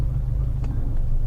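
A Honda Element turns around in a rural driveway, its engine producing a steady, close, low rumble.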